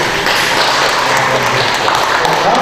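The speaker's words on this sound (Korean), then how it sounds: "우리 박사님 박수 한번 주시고" Audience applause at an outdoor training session on growing new grape varieties, a dense steady clapping that fills the whole moment at close, even loudness.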